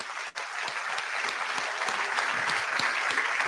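Applause starts after a brief dip, then builds into steady, moderately loud clapping from a group that carries on evenly to the end, with no speech heard.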